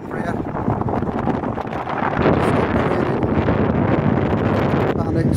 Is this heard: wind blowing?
yes